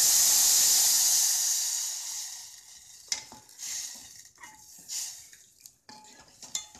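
Water poured into a pan of roasted vermicelli for madga sets off a loud burst of hissing sizzle that fades over a couple of seconds, followed by scattered spoon and pan clinks and scraping, with no talk.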